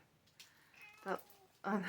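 A house cat meows a few times, close and fairly quiet, with short separate calls that rise toward the end.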